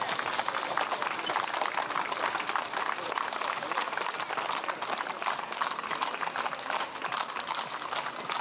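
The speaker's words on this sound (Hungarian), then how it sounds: "Tapsoljuk meg őket." A crowd at a horse show and equestrian-tradition day in Kapuvár applauds loudly and steadily, a dense, even wash of clapping that holds for the whole stretch.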